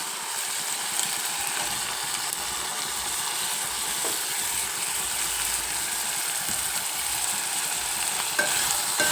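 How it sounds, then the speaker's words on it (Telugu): Raw cashews frying in a pan of keema curry give a steady, close sizzle with faint stirring scrapes throughout and no talking. "ఇలా వేగిన తర్వాత బాగా వేగింది కదా వేగినప్పుడు మనం జీడిపప్పు వేస్తాం పచ్చి జీడిపప్పు"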